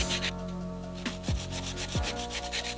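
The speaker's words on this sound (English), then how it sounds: "the easiest way I learned how to file without using too much of your nail drill is filing in both sides" A file rubs back and forth against a fingernail in short, rhythmic rasping strokes, close and steady.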